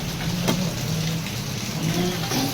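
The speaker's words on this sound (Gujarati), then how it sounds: "વરસાદ ચાલી રહ્યો છે" Steady rain falls at an outdoor community meal serving rice, moong dal, roti and salad, a continuous broadband patter with no speech and a few faint tonal sounds in the background.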